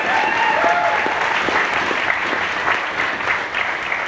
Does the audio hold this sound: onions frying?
no